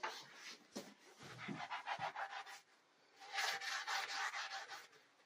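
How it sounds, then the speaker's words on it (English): A sink scrubber's abrasive side rubbing at a soaked oil stain with dish soap, producing faint, quick scrubbing strokes in two bursts separated by a short pause, with no voices. "We've got actually a little sink scrubber. It has a Scotch kind of side and a sponge side."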